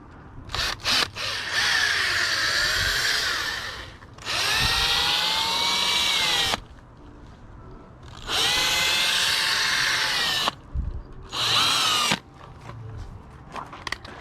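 A power drill boring a pilot hole and then countersinking it in wood for a twin bed frame. Several loud whining bursts of a few seconds each, with the pitch rising and dipping, separated by short quieter gaps of handling noise.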